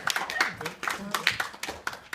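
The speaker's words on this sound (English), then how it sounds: "give a clap" An audience of students at a university engineering and computing faculty reps conference gives a short burst of clapping, close and fairly loud, with voices mixed in.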